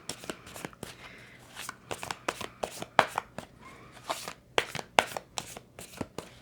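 Tarot cards are shuffled and drawn in quick, crisp riffles and slaps, sounding close and fairly quiet in an irregular rhythm of short bursts.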